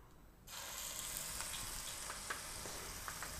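A teaspoon of chili paste drops into hot oil for Schezwan veg fried rice, and after a brief quiet a loud, steady frying sizzle takes over and holds without a break.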